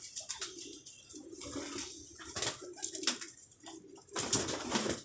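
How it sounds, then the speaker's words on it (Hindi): Teddy pigeons coo softly nearby in a series of low, rounded calls with short gaps, alongside faint rustling and brief background noises. "ये मादी लगी हुई है टैडी इसके साथ, टड़ी कबूतर है"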